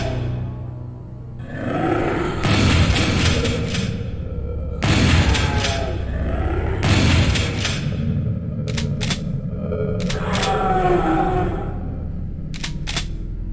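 A shotgun fires repeatedly in the 1997 shooter Doom 64, amid monster growls and impacts. A few loud, booming blasts come every couple of seconds over a constant roar.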